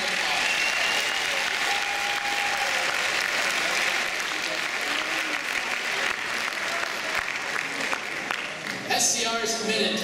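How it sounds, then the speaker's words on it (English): A large audience applauds at a Stanford event ahead of a Ben Shapiro talk, dense continuous clapping and crowd noise sustained throughout, with a few louder individual claps near the end. "Let's give them all a round of applause."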